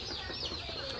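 Chickens clucking softly in a poultry setting, a faint steady murmur of low clucks with a thin higher call drifting over it.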